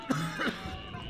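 A single short cough, close and fairly soft, followed by a brief quiet trail, over Garry's Mod gameplay.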